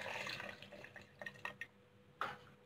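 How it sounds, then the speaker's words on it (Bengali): A cup of water is poured into a blender over cubed dragon fruit, making faint splashes and a few drips, followed by a brief louder slosh near the end. "তার সাথে দিব একটু পানি, পানি আমি নিয়েছি এখানে 1 কাপ"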